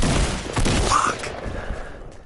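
Shotgun blasts in Fortnite, a burst of loud close gunfire around the first second with a rough, dense report and scattered thuds, then a quieter tail with faint background game noise.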